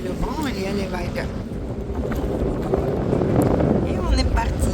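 Steady wind noise and washing waves on a boat crossing of the Bay of Kotor, a continuous broadband rush close to the microphone, with people talking faintly underneath.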